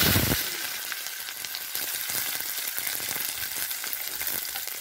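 Chopped small shallots hit hot oil where mustard seeds have just spluttered for a drumstick masala gravy, setting off a loud, steady sizzle with crackling pops that runs close throughout without any voices.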